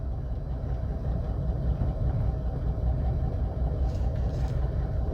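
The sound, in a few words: car engine idling with exhaust leak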